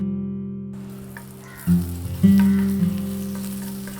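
Crushed ginger and garlic hit hot oil for an egg pepper fry. After a short quiet start, a steady sizzle builds and then swells with louder bursts as the pan is stirred.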